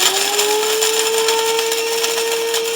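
A Braun electric coffee grinder runs close up, a steady, loud motorized whir with a constant high whine, without pause.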